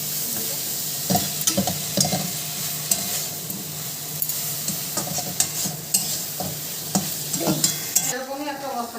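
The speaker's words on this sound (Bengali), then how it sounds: "টমেটো, চিংড়ি মাছ একসাথে ভেজে ফেলছে" Tomatoes and prawns frying together in oil in a pan, a continuous close sizzle with repeated scraping and clacking of a spatula stirring, steady throughout.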